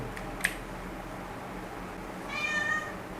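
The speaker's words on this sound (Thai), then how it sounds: "แมวมาขอข้าวกินแล้วนะทุกคน" A cat meows faintly once, a thin drawn-out call rising over a steady room hum, begging for food beside a computer setup, with a tiny click just before.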